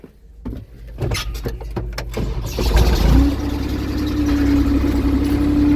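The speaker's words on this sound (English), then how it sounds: "Get the tractor fired up." Tractor on an old-style dairy farm in a tiestall barn, starting with a few cranking bursts before catching and settling into a steady, loud, close idle.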